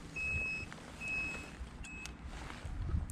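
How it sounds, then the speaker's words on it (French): An electric scooter's turn signal emits a steady high electronic beep, three evenly spaced tones each lasting about half a second, over low background rumble and handling noise. "Le clignotant fonctionnel avec lumineux et sonore."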